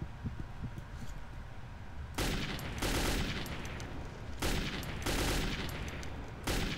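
Bursts of gunfire in the post-apocalyptic shooter Metro 2033, sharp volleys that start abruptly and return in several loud clusters separated by brief quieter gaps, with no voices.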